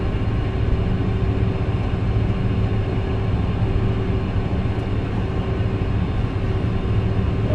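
A USAF KC-10 tanker taxis in at an air show, its jet engines producing a steady, loud, broadband roar and low rumble with no breaks.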